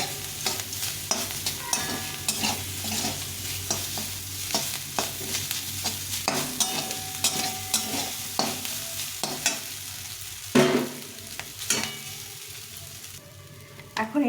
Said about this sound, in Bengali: দিয়ে এটাকে ভালো করে ভেজে নেব